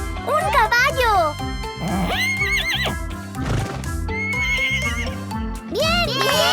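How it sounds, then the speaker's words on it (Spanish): A cartoon horse pops out of an orange surprise egg in a children's colors-and-animals show, whinnying in several rising, wavering neighs over bright background music, with children's voices chattering in between. "¡Un caballo!"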